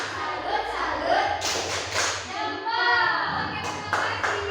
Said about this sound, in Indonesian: kita beri aplaus sekali lagi